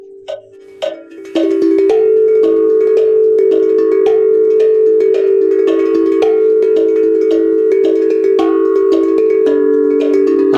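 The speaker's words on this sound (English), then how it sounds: "I enjoy its sound on a double-sided tongue drum the most." Bright metallic notes from a double-sided tongue drum ring in a fast, steady repeated thrill pattern, with a sustained droning tone underneath and regular accented strikes.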